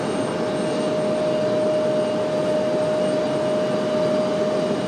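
A passenger airliner arriving from Indianapolis and landing at RDU airport, its jet engines giving a steady, loud roar with a thin whining tone held throughout and no voices.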